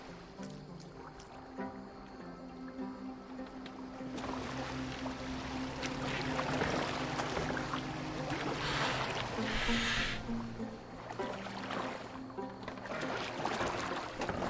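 Boat gliding across water in the Viking-era game Assassin's Creed Valhalla, a steady wash of water and hull noise that swells after the first few seconds, with a few brief splashes and creaks and no talking.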